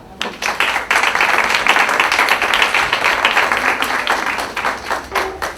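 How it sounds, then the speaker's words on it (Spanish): An audience claps steadily to welcome a speaker being introduced at a talk, a dense wash of many hands sustained for about five seconds before thinning out, with no voices over it. "les pido que le den un aplauso,"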